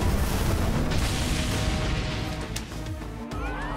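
A massive explosion effect from the Cardfight!! Vanguard G anime, a dense, roaring broadband rumble that fills the whole clip, loud and sustained, easing slightly near the end with crackling debris tails.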